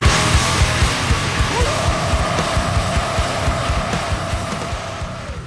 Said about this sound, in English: some really heavy music that sounds a bit like this